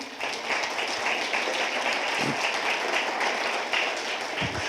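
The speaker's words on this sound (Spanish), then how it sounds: "Le damos un aplauso al Señor." Church congregation applauding in praise during a Spanish-language sermon, a steady wash of many hands clapping at moderate volume with a few faint low thumps underneath.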